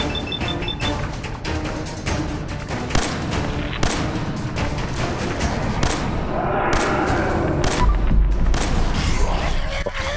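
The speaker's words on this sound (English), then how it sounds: "Throwing a frag grenade." A frag grenade goes off in a video game amid a chaotic firefight, with sharp gunshots and booms scattered throughout and a heavy low-end blast swelling near the end.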